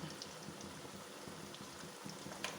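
Sliced plantain chips fry in coconut oil with a soft, steady bubbling hiss and faint crackles, quiet and continuous with no talk.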